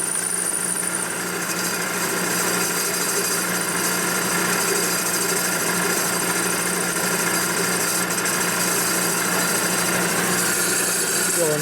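A machining cut on an aluminum Harley panhead cylinder head runs as a continuous, loud grinding whir with an uneven, chattering texture from hard spots in the metal, holding steady throughout.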